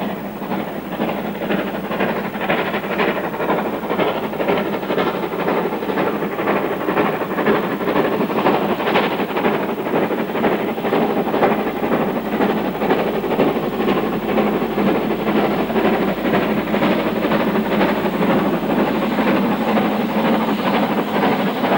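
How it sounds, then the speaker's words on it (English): Steam locomotives working hard up a steep three-mile bank on the North Yorkshire Moors Railway, with a loud, continuous roar of exhaust, hissing steam and rolling train noise that holds steady throughout, with no voices. "produces some spectacular sights and sounds as the locomotives attack the bank"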